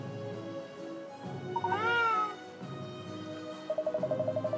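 A cat meows once, a clear rising and falling cry in Layton's Mystery Journey video game, set among soft background game music and ending with a short run of quick electronic beeps.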